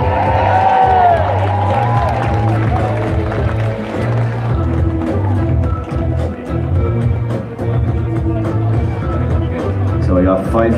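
Big outdoor crowd at a medieval combat event cheering as national fighter teams from Argentina and Denmark walk onto the field, a steady loud roar of voices with an announcer talking over it.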